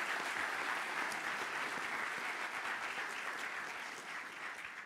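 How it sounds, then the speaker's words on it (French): Sustained audience applause fills a lecture hall at an aerospace diplomacy conference, a dense and even wash of clapping that holds steady before easing slightly at the end. "Je vous demande d'applaudir les interventions de cette première table ronde."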